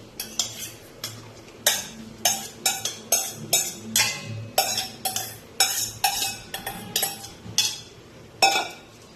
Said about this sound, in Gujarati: તો ચાલો હવે આપણે આ બધું મિક્સ કરીએ